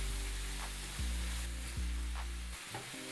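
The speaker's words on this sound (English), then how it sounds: "The cooking process for the shrimp should only be about a minute or 2 until you get the nice pink color." Shrimp sizzle and fry in a pan for Mexican deviled shrimp, with a steady crackling hiss over a low hum that cuts and resumes a few times, close and clear.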